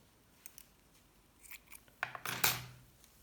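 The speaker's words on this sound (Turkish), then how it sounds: "İpi kesiyorum." Scissors snipping through knitting yarn after casting off stitches, a few faint snips early on followed by a louder, closer cluster of crisp cuts near the end, with no talking.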